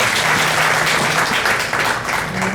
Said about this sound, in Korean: 큰 박수 환영 부탁드립니다